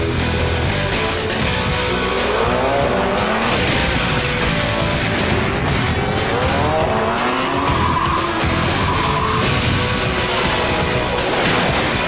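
Score Trophy Trucks race in the Las Vegas Primm 300 desert race in Nevada, engines roaring loudly and continuously with revving and tire noise throughout.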